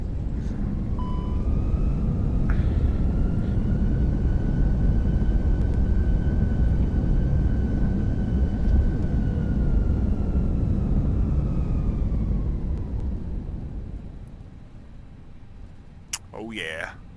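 FSLabs A319 thrust reversers deploy on landing in a flight simulator: a loud, steady jet roar with a faint whine holds for about twelve seconds, then winds down and fades.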